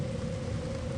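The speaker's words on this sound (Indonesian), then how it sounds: "Hujan malam ini menyisikan rintik yang sepenuhnya belum berakhir." Steady rain falls at night as a dense, even hiss, with a faint low hum running underneath and no distinct individual drops.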